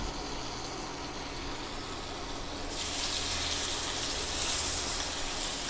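Steaks hitting a hot buttered pan set to medium-high, a steady broadband sizzle that swells louder halfway through as the meat settles in, close and continuous with no talking.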